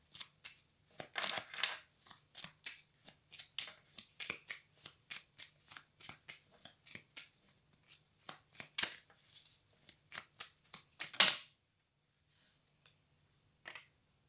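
Tarot cards are shuffled by hand in a quiet room: a long run of soft, rapid riffles and flicks in uneven bursts, faint and close, with a louder riffle near the end before trailing off.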